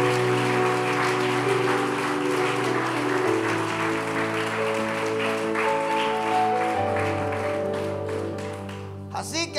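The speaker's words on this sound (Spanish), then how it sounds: "Dele un aplauso al Señor." A church congregation applauds during a sermon, a dense wash of clapping that fills the space throughout and fades slightly near the end, with steady music or sustained tones underneath.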